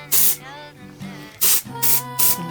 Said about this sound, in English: I'm going to spray it with some texture spray